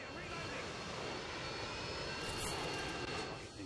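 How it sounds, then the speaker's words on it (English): Jet aircraft engine roar from a Harrier killstreak in Modern Warfare 2, a steady, loud, broad rumble that holds for several seconds, with faint game sounds mixed in. "can you let my Harrier maybe get the kill?"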